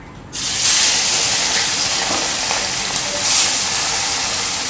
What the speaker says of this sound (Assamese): মাছখিনি এনেকৈ ভাজি ল'ব